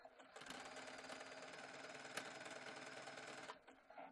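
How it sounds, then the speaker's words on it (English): A sewing machine runs a zigzag stitch along a ruffled skirt's seam allowance, a fast, even mechanical chatter lasting about three seconds and then stopping, close and alone. "I want you to zigzag this ruffled seam allowance going all the way around"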